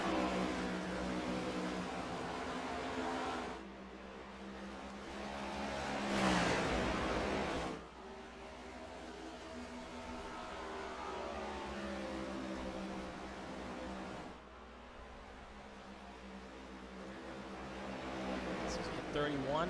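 Stock cars in an ARCS series all-star race run close together on track, a steady engine drone rising and falling as they pass, with commentary voices talking over it throughout.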